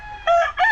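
A nearby Alabama Black rooster crows in two short, loud bursts, with a faint background murmur.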